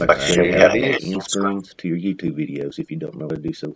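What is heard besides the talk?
No everyday noises stand out.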